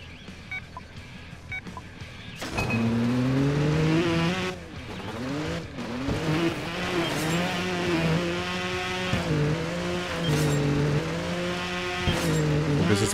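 A video game motorbike in Trials Evolution revving at full throttle, its engine whine climbing and falling in pitch through repeated surges and gear changes, loud and close, preceded by a short quieter stretch.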